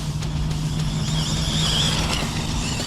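A Spark XB6 RC car's electric motor on half-throttle bursts, a steady loud whirring with a high whine that climbs and falls over constant drivetrain and road noise.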